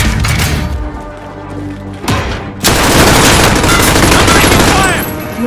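Heavy gunfire crackles through a combat video game: loud, continuous volleys of shots with thuds and booms, briefly easing before a denser barrage resumes, with voices faintly present underneath.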